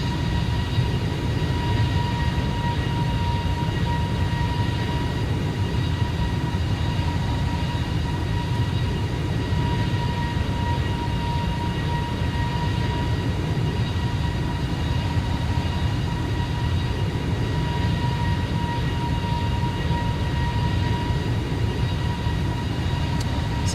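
An Airbus A320neo climbs after takeoff in a flight simulator, with a steady, droning engine rumble and a constant high whine that holds level throughout, with no talking.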